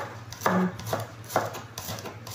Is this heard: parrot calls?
no